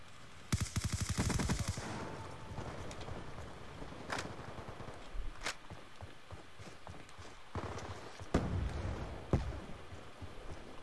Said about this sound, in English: I see one loser over here letting his gun off